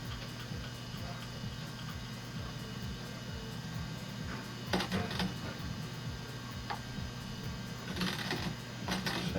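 A skate sharpening wheel grinds a hockey skate blade: a steady motor hum with a rhythmic ticking, and a few short, rasping bursts where the wheel touches the steel.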